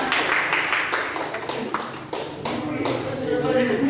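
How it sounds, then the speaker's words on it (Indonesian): A classroom of students clapping hands together after a teacher's call, a steady dense patter of claps lasting a few seconds with some voices mixed in. "tepuk tangan kita semuanya"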